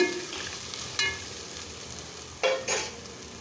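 Chopped beetroot frying in a pan with a steady sizzle, broken by a few louder bursts of spattering and stirring.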